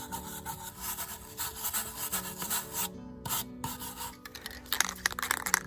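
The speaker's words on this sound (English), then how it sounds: "Need to rough sand it with the grain." Rough sanding of scorch-marked wood with the grain: steady back-and-forth rubbing strokes, close and fairly loud, repeating in an uneven rhythm with brief pauses, with no voices.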